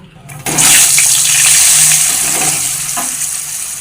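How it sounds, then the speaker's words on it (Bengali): Potato pieces frying in hot oil in a home kitchen, a loud steady sizzle that starts abruptly and keeps going with some clatter of stirring, no talk. "এবার আমি আলু ভেজে নেব"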